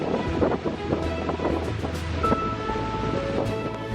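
Strong wind on the ridge of Mount Baldy South Peak buffets and roars in uneven gusts, with heavy rumbling microphone noise and whooshing surges, no talking.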